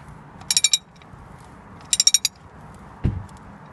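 A 36 mm socket wrench ratchets on the oil sump drain plug of a 2001 Ford Transit van. Two quick bursts of close, crisp clicks are followed by a single dull knock in a quiet workshop.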